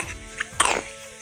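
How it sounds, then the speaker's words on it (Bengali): A young child gives one short, sharp cough, close and clear, with quiet surroundings before and after. "কাশি হচ্ছে।"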